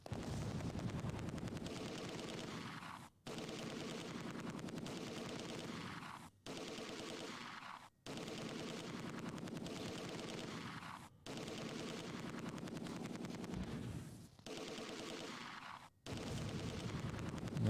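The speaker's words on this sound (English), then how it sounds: "Nice big ass mortars plastering our position pretty good." Heavy mortar fire plasters a defensive position in the wartime strategy game Close Combat 2, a dense, continuous barrage of blasts and gunfire broken by a few short, abrupt gaps, loud and unrelenting with no talk.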